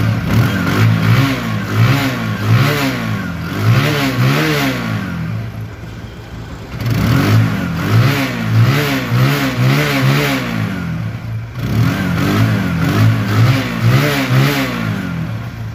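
A blue second-hand TVS Apache RTR 150cc motorbike engine revs up repeatedly in three rising and falling bursts, loud and close, with no talking.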